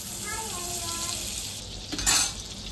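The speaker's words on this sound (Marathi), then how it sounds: "कढई तापली आहे तर त्याच्यात मी टाकते हे बटर" Butter melts and sizzles in a hot kadhai with a soft steady crackle, briefly joined by a clink of utensils against the pan near the end.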